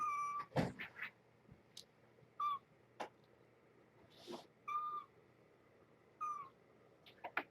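Kittens meow at dinner time, a series of short, thin, high mews repeating every second or so at close range, some louder and some fainter, over a quiet room with no talking.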